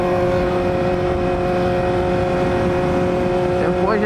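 A Honda Hornet motorcycle rides on a cloudy day with a steady, continuous engine drone and wind noise throughout, at constant loudness.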